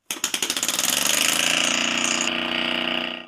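A homemade compressed-air piston engine spins up from a few distinct clicks into a rapid, buzzing mechanical rattle, loud and close, holding a steady high speed before slowing at the end.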